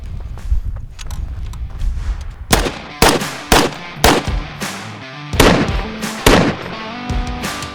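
A .308 rifle fires outdoors in a string of sharp, loud reports, a few spaced shots followed by quicker bursts, each cracking close and echoing briefly.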